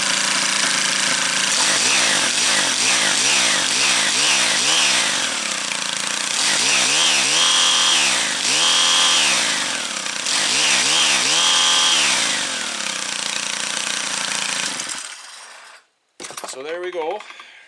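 A Stihl FS130 string trimmer engine, pulled from a scrap pile and without its shrouds or trimmer head, catches and runs with repeated revving surges, loud and close, before cutting off near the end.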